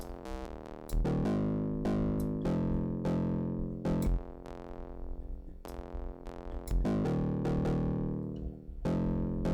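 An electric bass played through an EQ and a distortion pedal gives a series of gritty, sustained plucked notes, each attack bright and buzzing, in an uneven riff at steady volume with no talking.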